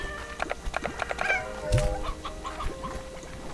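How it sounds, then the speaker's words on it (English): Chickens clucking in the video game Slime Rancher, a busy overlapping chorus of short clucks and squawks in a steady jumble, with a dull thump partway through. "There's chickens right there."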